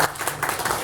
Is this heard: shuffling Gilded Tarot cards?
no